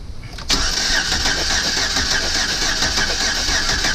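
A Chevrolet Silverado truck engine with a misfire cranks. The starter catches with an abrupt onset and then a steady, rapid, rhythmic churning that stays loud and close for several seconds.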